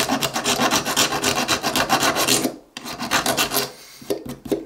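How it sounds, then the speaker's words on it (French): A hand file rasps against a Victorinox knife part in steady, close back-and-forth strokes, a brief pause, then a few more scrapes, with no one talking. "Je vais peut-être lui mettre un petit coup de lime là."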